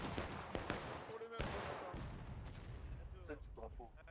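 Musket volleys and artillery booms from a War of Rights Civil War battle at Bolivar Heights crack and thud in scattered bursts, some near and some distant, while voices shout commands over the gunfire.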